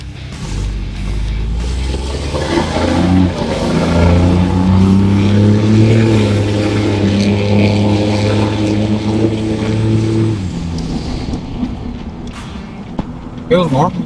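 Big-turbo diesel truck engine in a repair shop cranking slowly before catching, then a loud steady rumble with rising harmonic whine as the turbo spools, strong and close, with voices talking near the end.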